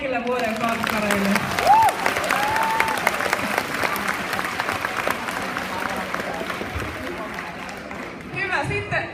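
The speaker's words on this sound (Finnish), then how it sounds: "vielä aplodit kaikille vuoden fankkareille" At a Christmas party awards ceremony, a crowd applauds the fans of the year with sustained dense clapping that fills the room throughout, while voices talk and call out over it.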